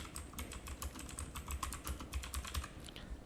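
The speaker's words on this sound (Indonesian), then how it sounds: "Kita ketikkan ya." Computer keyboard typing while entering text in AutoCAD for a technical drawing; a quiet, rapid run of close key clicks, irregular and continuous, with no talking.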